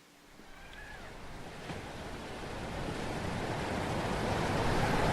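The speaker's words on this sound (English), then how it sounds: "When you put this thing to your ear, you can hear the ocean." A seashell held to the ear gives off an ocean-like rushing hiss that swells steadily louder, with no talking.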